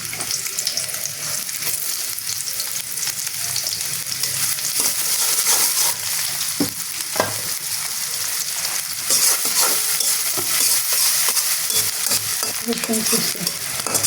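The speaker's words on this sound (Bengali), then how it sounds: "তেল কড়াইতে আমার দাগানো একটু তেল ছিল এবার এর মাঝে দিয়ে তেজপাতা" Bay leaf dropped into hot oil in a wok sizzles and crackles steadily, with a few sharp pops and stirring scrapes throughout, close and fairly loud with no talking.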